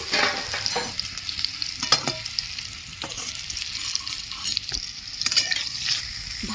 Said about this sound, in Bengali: আমগুলো তেলে নেড়ে নিচ্ছি।